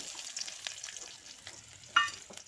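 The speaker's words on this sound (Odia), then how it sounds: "ସେଇଥିରେ ଆଡ଼୍ କରିବା 2ଟା ତେଜପତ୍ର ଆଉ ପିଆଜ ନେବା, ତାକୁ ଭାଜିବା" Bay leaves and onion slices frying in a pan with oil and a little caramelised sugar for a cauliflower curry, a soft, steady sizzle with light stirring scrapes and one sharp clink near the end.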